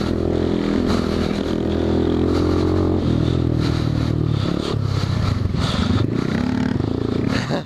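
Grom motorcycles ride through motocross whoops, their small engines revving and dipping in uneven bursts with rattling, scraping clatter from the rough track, loud and continuous throughout.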